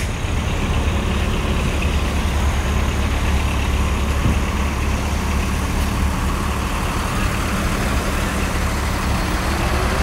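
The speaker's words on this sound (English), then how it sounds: "It wouldn't be New York if we didn't have traffic." Steady New York City street traffic rumbles in a downtown setting, a continuous low drone of trucks, buses and cars with idling engines and a brief air-brake hiss, no voices.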